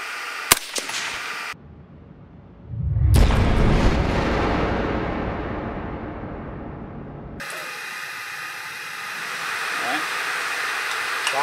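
A gunshot through a see-through suppressor on an outdoor range, a sudden loud boom that decays over several seconds, followed by low background chatter.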